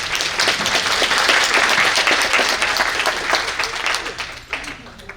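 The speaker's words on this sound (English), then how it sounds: "a round of applause for Hannah Wang" Audience applause for Hannah Wang at a language services company's annual general meeting, a dense steady round of many hands clapping that gradually thins and fades out toward the end.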